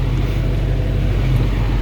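A tractor-driven forage chopper works a muddy cornfield at dusk, a loud steady low engine drone and mechanical rumble heard from inside the cab with no variation.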